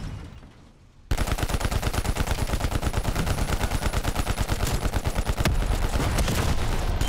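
Tank gun in Call of Duty Cold War Zombies opens up after a quiet second, a loud, close, rapid stream of evenly spaced shots that runs without a break to the end.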